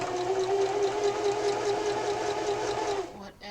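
A sewing machine stitches a Valentine pillow in one steady, humming run of about three seconds, close and fairly loud, then stops abruptly.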